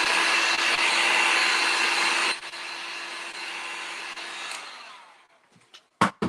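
A hair dryer blowing air over a freshly painted patriotic stencil in a garage, a loud steady whoosh that drops in level, winds down and stops, followed by a few sharp knocks.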